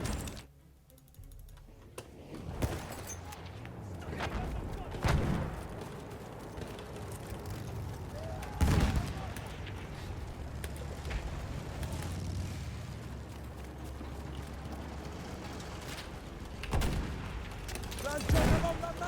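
Video game battle with gunfire and explosions, including an anti-tank rocket gun, sounding as scattered sharp shots and heavier booms over a dense rumbling background, with some clicking and faint voices throughout.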